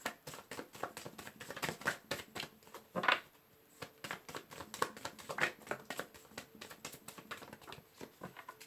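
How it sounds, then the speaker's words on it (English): Tarot cards are shuffled in a quiet room, a rapid run of soft papery riffles and taps with a few sharper clacks, faint and close. "Last shuffle."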